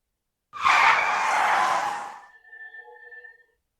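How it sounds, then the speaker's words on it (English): A car's brakes screech in one loud, close skid lasting about two seconds, then fading into a thin ringing squeal. "the car's brakes screeched"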